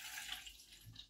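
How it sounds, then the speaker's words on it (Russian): Milk pouring into a pot for panna cotta, a brief steady liquid stream in a home kitchen, fairly quiet and close with no speech. "наше молоко наливаем"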